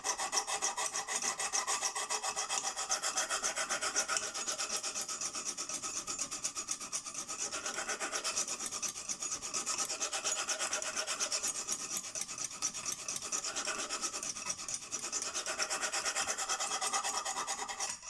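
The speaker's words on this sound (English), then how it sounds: "I only give each knife in my collection one go on the lansky" A knife blade is drawn across the stone of a Lansky sharpening system, with a steady run of quick, raspy rubbing strokes repeating close by and no talk.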